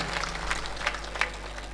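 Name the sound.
audience applause at a poetry gathering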